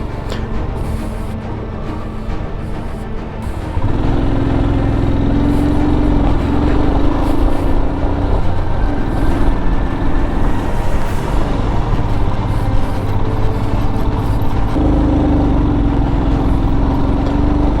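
A vehicle engine runs steadily on a steep mountain road in Zanskar, Ladakh, between Padum and Lingshed, its low rumble swelling louder after a few seconds as the clutch is let out and the drive takes up.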